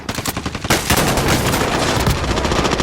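Rapid automatic gunfire in Call of Duty Warzone, a short staccato burst of distinct shots followed by sustained, loud, overlapping fire and battle noise.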